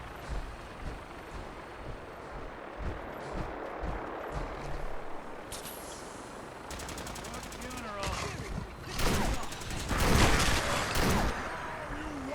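Gatling laser fire in Fallout 4 rattles out in rapid, dense bursts over steady background noise, with a short volley midway and a louder, longer stream of shots near the end.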